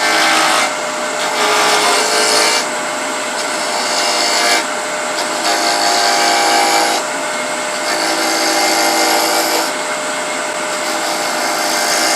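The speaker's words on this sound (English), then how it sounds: "I'm using this tiny little 3/8 inch C-flute bowl gouge. And I'm just going to ease the edge off." Wooden loom pulley spinning at high speed on a wood lathe while a 3/8 inch C-flute bowl gouge eases its edge, making a loud, hissing cutting whir that comes in several long passes.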